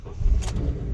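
A 2005 front-wheel-drive Honda Element cranking and catching in one brief start, a low engine rumble steady throughout with a short higher burst midway, fairly close.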